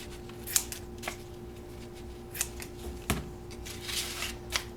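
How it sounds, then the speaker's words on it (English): Scissors snipping paper hearts for a Valentine banner, a few sharp separate cuts spaced irregularly, fairly quiet and close, with no voices. "Now I'm going to trim these up."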